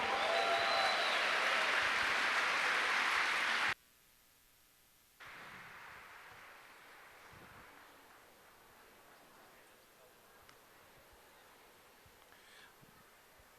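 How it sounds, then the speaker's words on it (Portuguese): A conference audience at a happiness congress in Curitiba applauding a philosopher coming on stage, a dense, loud, even wash of many hands clapping that cuts off abruptly, then a faint, noisy room tone. "Aplausos para ele."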